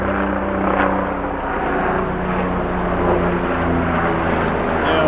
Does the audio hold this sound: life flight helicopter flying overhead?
yes